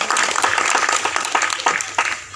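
A church audience claps together during Christmas celebrations at a Lutheran church, a dense, busy patter of many hands filling the room at close range for a couple of seconds.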